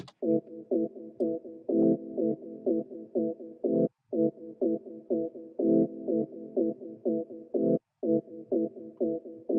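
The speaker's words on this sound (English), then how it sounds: "I'm just going to kick up this resonance a little bit and give that a little bit of a distortion effect." A repeating synth pattern of short buzzy tones in a steady rhythm, with a gritty, distorted edge and brief gaps between phrases.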